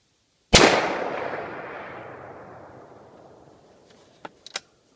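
A single loud, sharp crack from a Savage 10P .308 rifle fired at a rock more than 100 yards away, echoing as a long fading rumble, followed by a few faint clicks.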